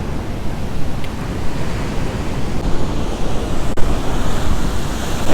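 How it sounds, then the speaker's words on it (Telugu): Ocean surf rolling in at a beach beside a roadside stop on a Hyderabad-to-Kerala motorcycle trip, a continuous loud wash of breaking waves with steady wind rumble against the microphone and no talk. "బీచ్ ఎగ్జాక్ట్గా ఆపోజిట్లోనే ఉందన్నమాట."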